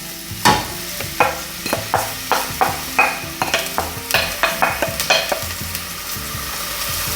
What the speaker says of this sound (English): And you're going to give them a fry off